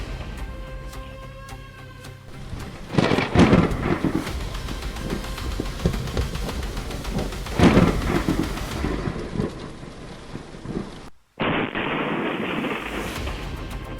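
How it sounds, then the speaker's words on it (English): Thunder from a lightning strike during a storm, with two heavy rumbling cracks over continuous rain, followed by steady downpour noise. "A bolt of lightning struck the tree trunk, creating a moment that was both spectacular and fierce."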